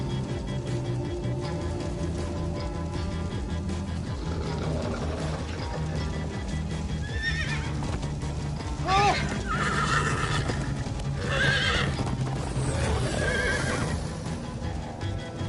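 Several Minecraft horse whinnies ring out over a constant rumbling background, with faint hoofbeats and some voices mixed underneath.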